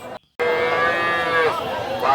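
A calf moos in a long drawn-out call at a cattle market, then a second shorter moo follows, close by, with a busy crowd murmuring in the background.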